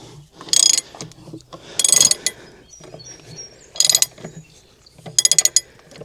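Ratcheting clicks from a wrench turning a wheel bolt on a Porsche 986, coming in four short bursts separated by quieter pauses, with faint low background noise and no talking.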